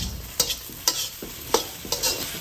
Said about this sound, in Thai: คั่วให้เขาเกรียมอีกนิดนึงไม่ต้องถึงกับไหม้เนาะ